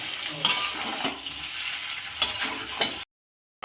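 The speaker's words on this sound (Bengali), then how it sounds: "এবার আমি যে ময়দাটা ভেজে রেখেছিলাম এবার দিয়ে দেব দিয়ে একটু ভালো করে কষে নেব" Fried flour being stir-fried with peanuts in a pan for a vegetarian dish, with a steady close sizzle, scraping stirs and a few sharp clicks of a spoon on the pan before it cuts to silence.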